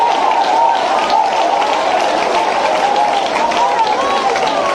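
A church congregation claps steadily, with voices calling out praise over the dense, continuous applause throughout.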